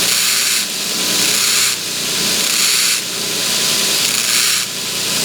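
A forged steel awl point being ground, four slow passes of hissing, rasping grinding that swell and fade in an even rhythm over a low motor hum.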